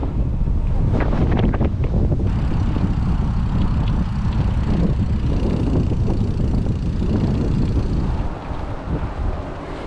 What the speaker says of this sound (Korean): 와 바람이 너무 많이 불어